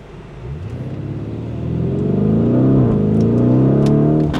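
A Lamborghini Urus S engine revs up and accelerates hard in sport mode, the deep rumble rising in pitch, with a few sharp exhaust pops crackling near the end.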